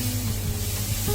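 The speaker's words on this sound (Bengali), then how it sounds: "এখন ঢেলে দিচ্ছি টমেটো বাটা।" Tomato paste poured into a hot pan while cooking mutton butter masala gives a steady, close sizzling hiss that lasts the whole short moment, with no talking.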